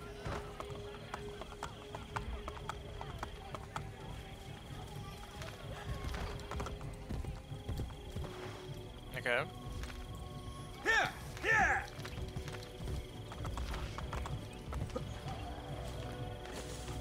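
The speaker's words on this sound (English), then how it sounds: "I'll get a horse." A horse gallops in the video game Assassin's Creed Brotherhood, its hoofbeats clopping in a quick rhythm beneath other game sounds and brief whinnies, at moderate volume.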